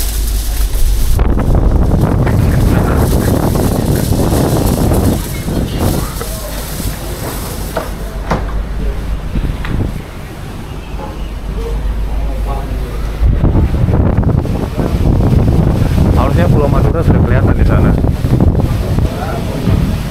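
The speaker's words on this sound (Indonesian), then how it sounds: "Sekarang kapal sudah di sekitar Pulau Madura dan anginnya lagi kencang banget" Strong wind buffets a ship at sea near Madura island, a loud rumbling gust noise on the microphone that eases midway then rises again, with a person talking over it.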